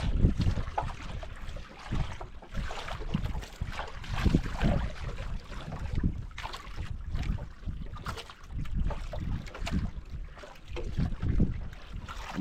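Wind buffets the microphone in gusty, uneven rushes outdoors near water, rising and falling throughout with no talk over it.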